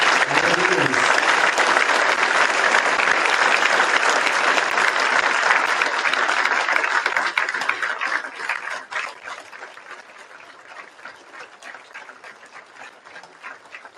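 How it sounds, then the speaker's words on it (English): Sustained audience applause at a memorial celebration for a coach, held in a stadium, loud and dense for several seconds before thinning out toward the end. "Can we give Dave one more hand, one more applause for everyone?"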